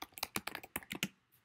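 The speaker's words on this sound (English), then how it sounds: "you're gonna start typing what that lesson was about that day" Rapid bursts of keystrokes on a computer keyboard, a quick irregular run of about a dozen crisp clicks close to the microphone, then quiet.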